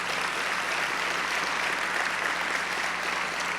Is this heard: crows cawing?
no